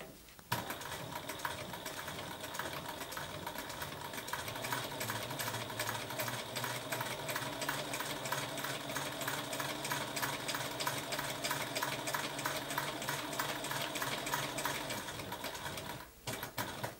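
Sewing machine running steadily for about fifteen seconds, stitching a hem along the bottom of a fabric cover side piece, a fast continuous mechanical whir with needle clatter, close and alone.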